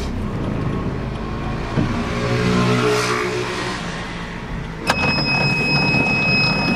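A van slowing to a stop with its engine droning loud and close, then a sharp clack of its door opening near the end, followed by a faint high whine.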